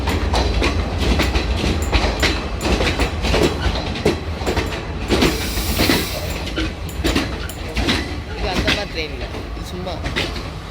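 A passenger train on the Badulla to Colombo route in Sri Lanka rolls along the rails with a steady, loud clattering rumble and a brief higher squeal, while people talk in the background.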